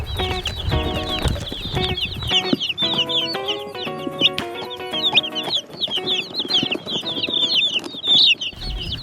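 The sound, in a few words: chicks in a box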